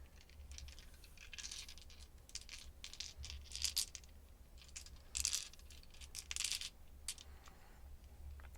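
Shimmery dice with clear interiors clatter and tick softly in a quiet room, several light bursts of small rattling impacts scattered across the clip, close and delicate with no speech.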